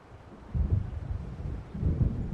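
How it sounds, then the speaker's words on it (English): Distant low rumbles of an approaching storm in Alan Wake, two soft swells of thunder rolling in under a faint windy hiss, with no voices. "It seems there's a storm coming."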